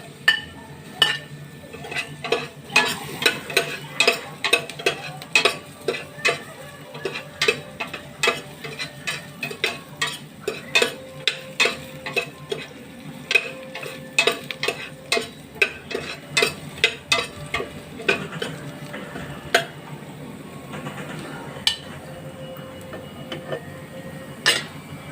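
Ginger and onion for chicken tinola cook in a pot, with steady sharp clinks and scrapes of a utensil stirring against the metal at a quick, uneven rhythm over a low background hum, close and fairly loud, with no talking.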